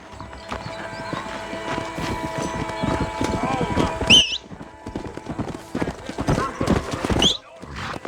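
Rapid hoofbeats of a galloping horse in Red Dead Redemption, with a sharp whinny partway through and again near the end.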